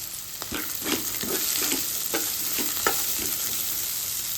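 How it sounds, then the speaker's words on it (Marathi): Peanuts and coriander being stirred into a sizzling tempering for kandapohe, steady frying hiss with repeated scraping stir strokes of a spoon against the pan, close and alone with no talk. "शेंगदाणे आहेत ते घालूया आणि मिक्स करून घेऊ।"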